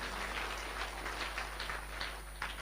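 An audience claps steadily in a church setting during a retreat talk, soft and distant, forming an even wash of applause throughout.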